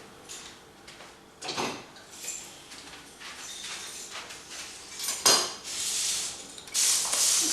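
In a home kitchen during sausage-roll baking, someone fetches a knife, and cutlery and dishes clink and clatter in scattered, fairly quiet bursts with short pauses between them.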